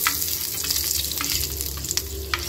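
A tadka tempering for raita fries in hot oil, a loud close continuous sizzle with crackles and occasional stirring clinks, no talking.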